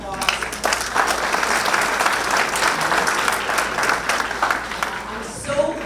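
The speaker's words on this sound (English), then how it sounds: "So a big round of applause." A crowd at a Lions Clubs district conference in Mississauga claps in sustained, even applause that fills the room from start to finish.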